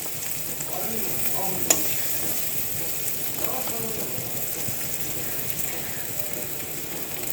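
Spice paste (masala) being stir-fried in a pan for a chicken, potato and soya dish, with a steady sizzle and scraping stirs throughout and one sharp clink near the start.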